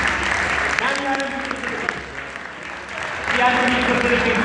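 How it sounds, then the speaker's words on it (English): A crowd applauding Miss Farah, a prize winner at a Philippine travel company's celebration, with steady clapping that swells near the end while people talk over it. "Let's give Miss Farah an exciting round of applause"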